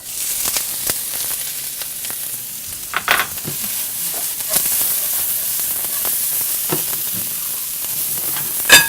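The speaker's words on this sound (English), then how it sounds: "Got some red pepper and some asparagus that's been slightly blanched. We're gonna saute that off." Sweet onions, red pepper and slightly blanched asparagus sauté in olive oil, giving a close, steady sizzle and hiss with a few sharper clinks and stirring bursts and no speech.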